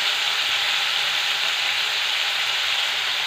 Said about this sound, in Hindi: अब इसमें टमाटर डाल देंगे। अब इसे भी थोड़ा सा भून लेते हैं।